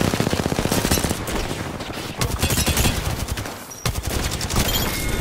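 Rapid automatic gunfire in the Apex Legends video game, loud and near, sustained bursts with brief gaps and repeated sharp shots throughout.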